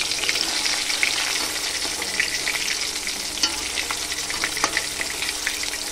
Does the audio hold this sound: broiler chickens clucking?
no